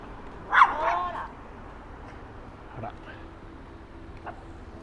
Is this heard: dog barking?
yes